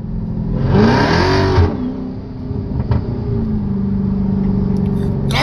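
A car engine revs loudly up close, a strong throaty roar that rises and falls, then settles into a steady rumbling idle.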